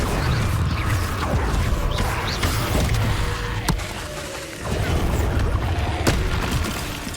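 Incendio fire spell blasts in Hogwarts Legacy, a dense, loud stream of booming bursts and crackling impacts with heavy low rumble, punctuated by a few sharp cracks amid chaotic spell combat.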